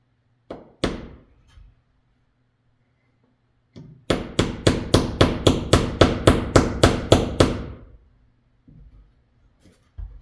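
A hammer drives a staple to hold speaker wire in place: a few scattered taps, then a quick run of about fourteen sharp, evenly spaced close blows, with one last light tap after a pause.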